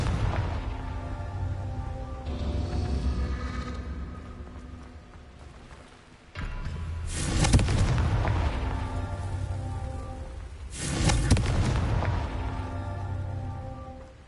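Confringo fire spell explosions in the video game Hogwarts Legacy, with two sharp booming blasts and crackling tails over a continuous game ambience and music bed, fairly quiet.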